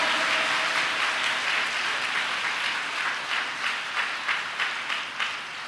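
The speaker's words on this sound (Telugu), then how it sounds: "చప్పట్లు కొట్టండి గట్టిగా" A church congregation claps loudly together during a sermon, a dense wash of applause that settles into a rhythmic, steady beat toward the end, with no voices over it.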